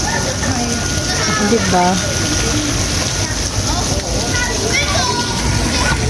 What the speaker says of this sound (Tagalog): parang may waterfalls na maliit.